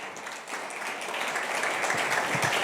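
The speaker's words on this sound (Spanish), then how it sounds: "Este aplauso es para el Señor." Sustained applause from a church congregation, a dense steady wash of many hands clapping that swells slightly after the first half second and continues evenly throughout.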